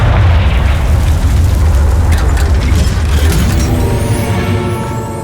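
A Confringo fire spell exploding in Hogwarts Legacy, a loud, heavy, continuous boom with crackling bursts and a deep rumble that slowly trails off, with no talking.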